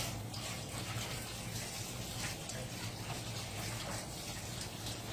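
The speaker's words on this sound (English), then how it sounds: "Let me wash my hands." Hands are washed under a running kitchen tap, a steady close gush of water lasting throughout.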